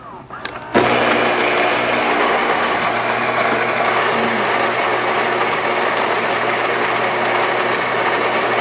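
Gaggia Cadorna superautomatic espresso machine brewing a medium-strength espresso lungo: a brief click, then a steady loud mechanical pump whir and hum running continuously without a break.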